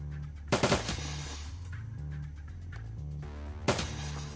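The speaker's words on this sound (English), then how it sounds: "Deadeye shot. Burst fire." Burst gunfire in the Shadowrun: Dragonfall video game: two loud, sharp automatic bursts, the first near the start and the second toward the end, over a steady game music bed, with no talk.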